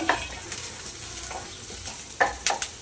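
Cashews fry in a pan for egg rice, a soft steady sizzle broken by scattered spoon scrapes and stirring clicks.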